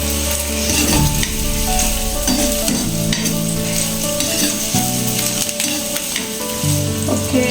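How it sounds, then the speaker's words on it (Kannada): Chopped onion and green chilies sizzle steadily in hot oil as they fry toward golden for lemon rice (chitranna), with continuous close frying crackle and intermittent stirring scrapes and no voices. "ಫ್ರೈ ಮಾಡ್ಕೊತಾ ಇದ್ದೀನಿ ಇಟ್ಸ್ ಅ ಗೋಲ್ಡನ್ ಕಲರ್ ಬರೋವರೆಗೂ ಫ್ರೈ ಮಾಡ್ಕೊಳ್ಳಿ"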